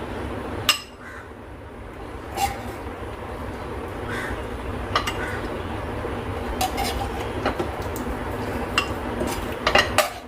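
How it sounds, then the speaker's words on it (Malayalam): Egg curry (mutta aviyal) is gently moved into a serving bowl, with scattered sharp clinks of utensil against dishware, a few louder knocks, over a steady low background hum with no talking. "അപ്പം നമുക്കിനി ഇതൊരു സെർവിങ് ബൗളിലേക്ക് മാറ്റാം"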